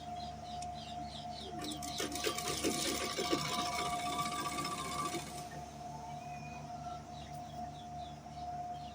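A sewing machine stitches a kameez in a quick rapid burst of about four seconds, set against a steady low hum and faint background sounds, with no talking.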